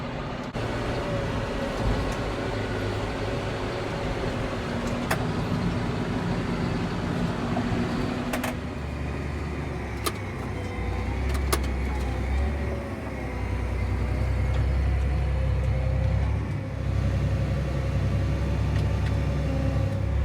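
A tractor hauling a wagon of harvested storm-damaged corn gives a steady, loud engine rumble with road noise that deepens and grows heavier partway through, with no talk.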